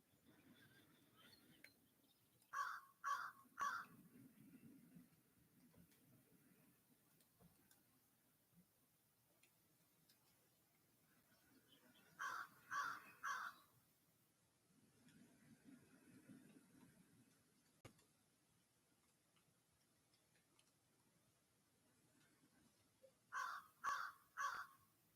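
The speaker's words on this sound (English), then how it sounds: "Guess that crow was praying along with us this morning." A crow caws in quiet morning surroundings, three sharp calls in a quick burst, repeated three times at long intervals and faint with distance, while low soft breathing sounds fill the gaps.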